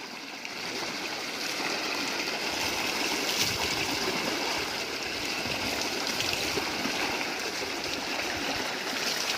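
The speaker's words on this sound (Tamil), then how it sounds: "இது பார்த்தீங்கன்னா ஃபுல்லாக அந்த செடிக்கு போகுது தண்ணி எல்லாமே." Steady rushing irrigation water flows continuously through a garden channel to plants, a broad close-up gush, with no voices.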